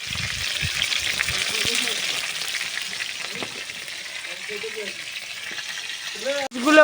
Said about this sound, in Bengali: মাছটা তুলে দিয়েছি, মাছটা ভালোভাবে ভাজা হচ্ছে।